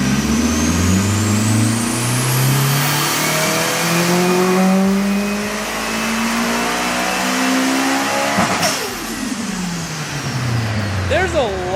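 A Nissan S15 with a 600 HP VVL SR22 engine revs hard on a dyno run, its rising harmonic whine climbing loud and close before dropping sharply, then picking up again with faint voices underneath.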